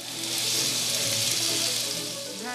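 Chinese cured pork (larou) frying in a pan gives a steady, close, dense sizzle that crackles continuously throughout, with no voices.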